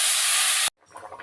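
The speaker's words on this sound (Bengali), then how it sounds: "কষানো হয়ে গেছে, পানি দিয়ে দেবো।" Water poured into a pan of sautéed fish curry with potatoes sets off a loud, steady steam hiss for under a second, which cuts off abruptly and leaves faint, quiet bubbling.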